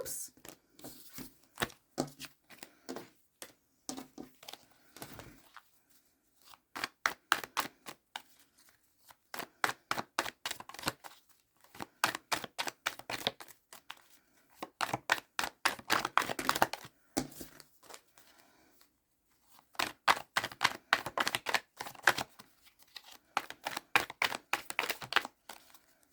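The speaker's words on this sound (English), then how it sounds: "I'm just doing some shuffling, and then I'm going to do a quick little different shuffle" Tarot cards riffle and slap in quick flurries, soft and close, in bursts separated by short pauses, with occasional quiet talk.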